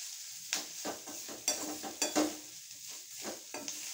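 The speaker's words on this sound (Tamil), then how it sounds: "நல்லா சிம்மில் வச்சு நல்லா பிரட்டணும்" Masala stirred in a pan over a low flame for a chicken and onion varuval, with a soft steady sizzle beneath about eight separate scrapes and clinks of the spatula, close by, and no talk.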